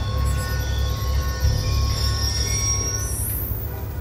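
A train passing in the video game Call of Duty Black Ops II, a loud steady rumble with rolling wheel noise and a sustained metallic squeal that rises sharply near the end, heard close.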